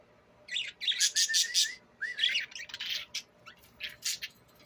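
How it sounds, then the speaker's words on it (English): Pet birds in cages chirp and squawk in bright, quick bursts, shrill tweets and rising whistles coming in uneven clusters over a faint room background, no one speaking. "And here's all the other birds way over here."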